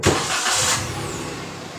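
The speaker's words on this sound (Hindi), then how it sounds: "गाड़ी की साउंड चेक कर सकते हैं बोनट की" A Maruti Alto car engine with a soundproofed bonnet revs briefly at close range, then settles into a steady, fairly muffled running hum.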